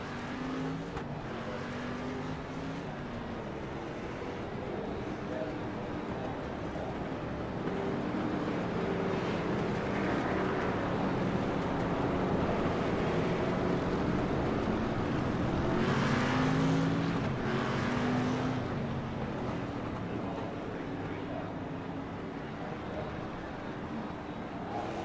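Street stock race cars roar around the Bullring oval in a steady, droning engine chorus. The sound swells as cars pass close by midway through, then fades back to a distant rumble, with wind buffeting the microphone.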